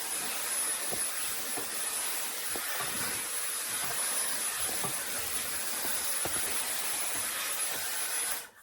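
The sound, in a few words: Dyson Airwrap i.d. blow-drying hair on low speed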